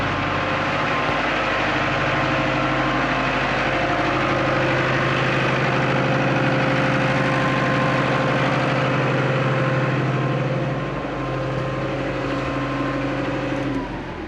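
A tractor (a 695) runs steadily at idle with a loud, constant low rumble close by. The engine dips slightly near the end and no voices are heard.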